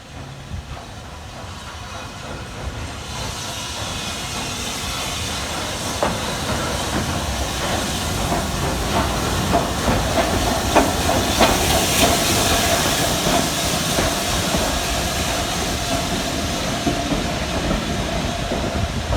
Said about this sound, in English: now our train taking us back down the line is hauled by a 5MT